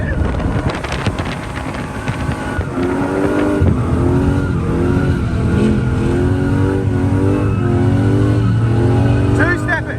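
A car engine held at high revs on a two-step launch limiter at a Powercruise event, bouncing off the stuttering limiter, loud and close, with four excited occupants' voices in the cabin.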